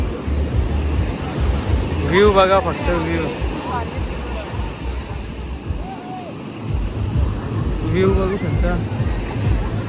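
Ocean surf on a Goa beach makes a constant rushing wash mixed with wind noise on the microphone, while people talk over it.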